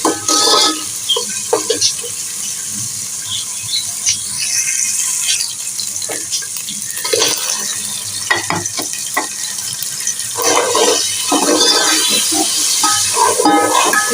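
A pan of matar pulao ingredients fries loudly and close, with a continuous sizzle and hiss broken by occasional stirring scrapes and taps.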